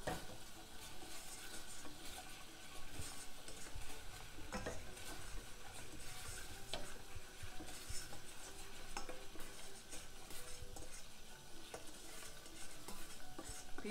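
A wooden spoon stirs homemade ginger wine in a pot, giving a soft, continuous sloshing and scraping close by, with occasional light knocks against the vessel and no voices.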